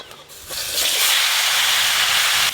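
Bottle gourd pieces tipped into hot oil in a rustic village kitchen set off a loud, broad sizzle that swells after a soft start and holds steady for a couple of seconds, close and without speech.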